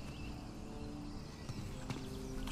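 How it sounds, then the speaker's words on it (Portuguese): A horse's hooves clop faintly in the game Uncharted: The Lost Legacy, a few soft, uneven steps under a quiet ambient bed. "Um cavalo."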